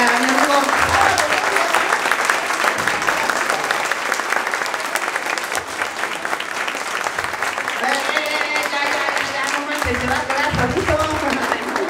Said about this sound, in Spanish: Le vamos a aplaudir por cada año de vida que queremos que esté con nosotros